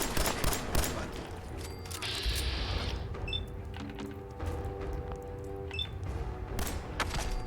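Gunfire in Fallout 4 rings out in a dense, rapid burst of shots against a steady game soundscape, with a few sharp metallic mechanical clicks, loud and close throughout.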